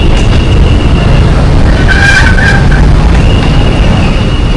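Loud, continuous street traffic near Capitol Commons in Metro Manila, a dense roar of passing vehicles with a brief higher whine in the middle.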